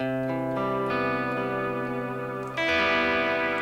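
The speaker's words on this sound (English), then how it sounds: "I just use it for some simple reverb to add more of an ambient reverb." Sustained electric guitar chords through an Eventide H90 ambient reverb pedal ring out with a wide, washy reverb that lets notes bloom and linger, shifting to a brighter chord near the end.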